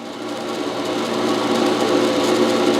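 A drill bores holes in the saddle skirt of a homemade wood lathe, a loud, steady buzzing whir close up that holds without pause and rises slightly in loudness.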